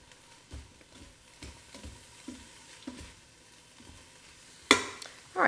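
Egg roll filling sizzles gently in a Ninja Foodi as green onion goes in and is stirred, soft scraping strokes repeating roughly every half second, then two louder clattering bursts near the end.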